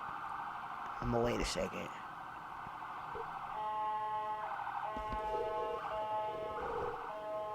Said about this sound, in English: sorry if y'all hear that siren going off